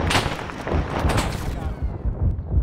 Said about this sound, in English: They're doing a rocket run here in a moment.